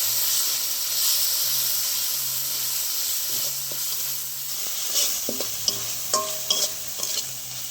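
Ground spice masala with chilli powder, coriander powder and garam masala paste stir-fried in a pan, a steady hissing sizzle with a low hum, then a run of spatula scrapes and taps near the end.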